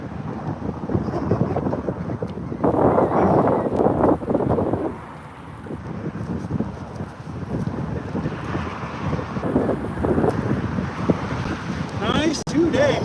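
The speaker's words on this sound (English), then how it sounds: "Boy, that wind is nice today." Steady wind buffeting a microphone out on the Columbia River during a sturgeon fishing trip from a boat, a loud continuous rushing roar with gusts, with people talking over it.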